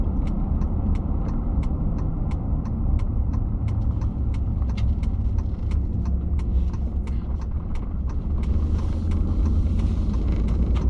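A 2006 Dodge RAM 1500 engine idles steadily after a Sea Foam treatment, a low, continuous rumble close by, with faint regular ticking clicks running over it throughout.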